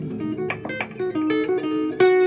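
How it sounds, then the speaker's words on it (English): Guitar lick picked with a purple plectrum, a short run of bright, close plucked notes in a diminished-sounding pattern, ending on a brighter sharp attack. "That's the sound of a purple plectrum"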